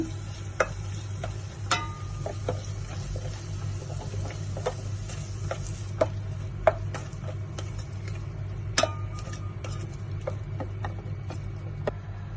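Eggs being stirred into cheese pasta in a pan: soft scraping and light clicks of a utensil at an irregular pace over a steady low hum and faint sizzle, with no talking.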